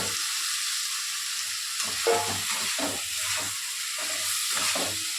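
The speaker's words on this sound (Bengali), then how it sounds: "দেখতেই পাচ্ছ মশলাটা তেল ছেড়ে দিয়েছে অনেকটা ভাজাই হয়ে গেছে" Dense, steady hissing and sizzling of spice paste frying in oil fills the clip, close and loud, with faint stirring scrapes underneath.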